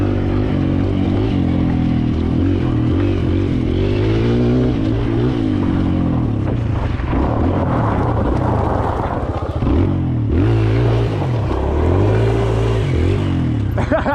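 A Kawasaki KLX 140L dirt bike climbs a hill, its engine loud and close, revving up and down through gear changes and throttle surges along the way.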